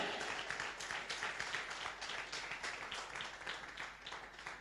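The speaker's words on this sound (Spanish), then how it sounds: "¿Cuánto le dan un aplauso al Señor por eso?" A church congregation applauding, a steady wash of many hands clapping at moderate distance, fairly faint and sustained throughout.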